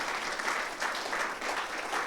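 Applause from a conference audience, a steady dense patter of many hands clapping that stays loud and even throughout with no voices over it.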